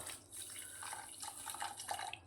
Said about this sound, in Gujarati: મોરસ ડૂબે એટલું જ પાણી નાખવાનું